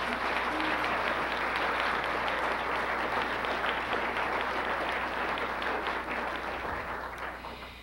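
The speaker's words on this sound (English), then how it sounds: "So could we have a warm applause for the Tucker team?" Warm applause from a lecture audience fills the hall, dense and sustained, holding steady before tapering off slightly near the end.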